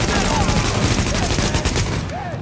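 Sustained automatic gunfire in The Division, loud and continuous with rapid overlapping shots, while voices talk faintly beneath it.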